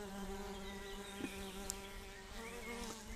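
A steady, low buzz from a European hornet hums continuously at close range, fairly quiet, with no voices.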